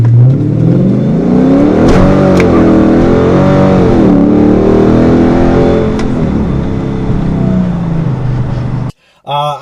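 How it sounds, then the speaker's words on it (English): A car engine revs hard and steadily on Nitto NT555 G2 tires, its pitch rising and falling as the tires spin, loud and close, cutting off abruptly near the end. "I can't even step on the gas. I'm just spinning the tires."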